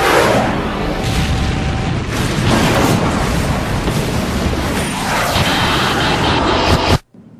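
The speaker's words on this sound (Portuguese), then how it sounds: "houve um baque, um impacto enorme" Loud, sustained roaring crash of two Boeing 747 airliners colliding on a runway at Tenerife, dramatized, a dense booming rumble running for about seven seconds before cutting off abruptly.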